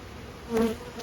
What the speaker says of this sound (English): just to try and hold the bees.